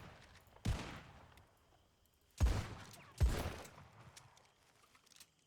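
Three sharp gunshots ring out in a Red Dead roleplay shootout, evenly loud and fairly close, the first alone and the next two close together, over a faint background with no talk.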